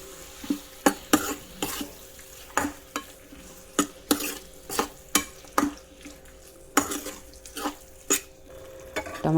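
Tomatoes cook down in a pan for masala rice while a spoon stirs them, sharp scraping knocks of the utensil against the pan recurring roughly every half second over a soft, steady sizzle.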